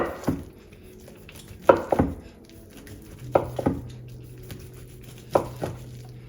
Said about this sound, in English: when you want to take the breast, you can just nicely slice it